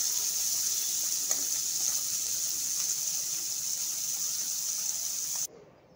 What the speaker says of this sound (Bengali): তারপর অল্প নুন হলুদ দিয়ে মাছগুলোকে মেখে এখন মাছগুলো আমি হচ্ছে মানে অল্প ভেজে নেব।